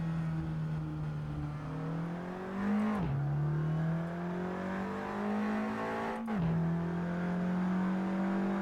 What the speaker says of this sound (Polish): Mamy to charakterystyczne pierdnięcie przy zmianie biegów